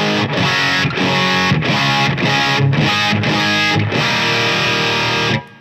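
An electric guitar runs through a Wampler Black '65 overdrive pedal, giving dense, driven chords strummed in a steady rhythm with short breaks between hits, close and loud until a quick fade at the end.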